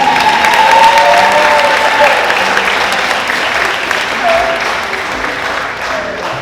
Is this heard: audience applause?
yes